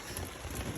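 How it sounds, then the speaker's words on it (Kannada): Heavy rain pours steadily during an outdoor shoot, a dense, even hiss of drops on surfaces heard alone, fairly close and without a break for the whole short stretch. "ಮಳೆ ಒಂದು ಹತ್ತೈತ್ರಿ, ಜೋರ್ ಐತ್ರಿ ಮಳೆ"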